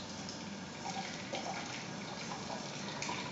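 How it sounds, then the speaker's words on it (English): Water runs from an Econoliser knife steriliser when the knife is pressed in, a steady, faint gushing stream with no talk over it. "activate the actual sterilizer with the knife and let you see how much water it uses"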